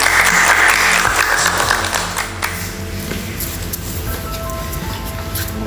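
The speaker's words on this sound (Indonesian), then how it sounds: "Ya, tepuk tangan semuanya." Audience applause at a school photography team talk, loud and dense at first, then thinning and fading out over several seconds.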